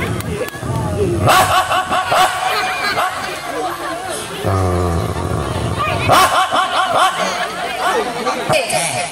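Amid lively background chatter, a voice briefly imitates a dog's bark, a short harmonic woof-like call in the middle of the babble.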